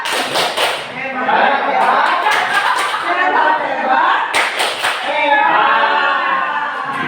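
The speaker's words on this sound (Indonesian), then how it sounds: "Kita tepuk hebat dulu untuk Bapak Ibu ini" A group of adults at a school positive-culture session does the 'tepuk hebat' patterned clap: loud, close bursts of synchronized clapping in short rhythmic sets, interleaved with chanting voices.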